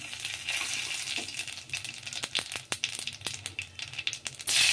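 Nigella seeds crackle and sizzle in hot mustard oil in a hot wok used for frying fish. Sharp pops and crackles come close over a soft frying hiss, ending in a brief louder burst.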